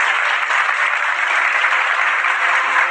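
Loud, dense audience applause at a business gathering in India, a steady wash of many people clapping that holds evenly from start to finish with no speech over it.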